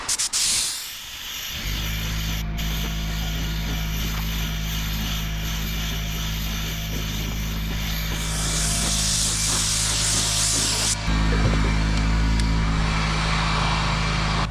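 Honda NH700M paint sprayed outdoors onto a new plastic car bumper: a close, steady hiss from the spray gun with a constant low compressor-like drone beneath, the spray intensifying and brightening in later passes, no voices.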